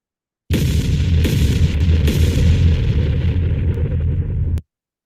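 A single deep explosion booms out after a short silence, followed by a long rumbling roar with crackling debris that cuts off abruptly.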